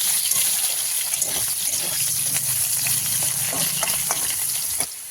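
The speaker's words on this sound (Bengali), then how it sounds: "এই কেটে রেখেছি আলুগুলো এর মধ্যে দিয়ে দেবো। আলুগুলো লাল লাল করে ভাজবো।" Cut potatoes frying in hot oil with dried red chili and cumin, a dense steady sizzle close by with occasional stirring clatter, stopping abruptly at the end.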